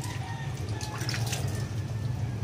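Water trickling and dripping while a cat is bathed, a continuous close splashing stream with a steady low hum beneath it and no voices.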